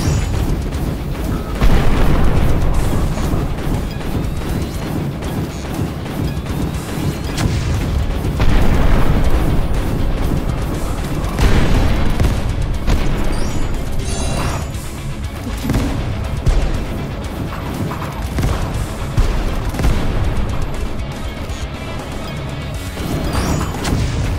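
Loud, continuous booms and crashing blasts roll on without pause, with dense rumbling low end and repeated explosive hits, game-like battle chaos.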